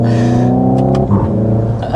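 A 2025 Hyundai IONIQ 5 N, a 641 hp electric car, plays its simulated engine note, a loud revving drone that breaks off into a quick shift and then climbs again, close and alone.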